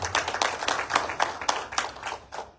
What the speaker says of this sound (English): A big round of applause for UNICEF Eswatini.